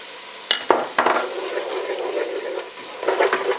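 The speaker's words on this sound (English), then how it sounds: "Now we are going to add the almonds." Almonds tipped into a pan with browning bread and onion, then stirred: a few sharp clatters at the start, followed by a continuous bright sizzle and scraping stir, close and loud.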